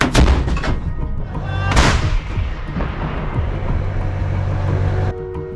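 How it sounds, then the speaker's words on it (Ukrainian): A heavy artillery gun fires with a deep booming blast at the front near Chasiv Yar, followed by a second sharp report and a long rumbling echo rolling away outdoors. "Гармата! Постріл!"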